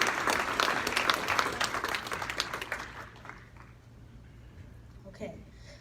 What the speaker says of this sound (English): Please, a big round of applause for Catherine Aspen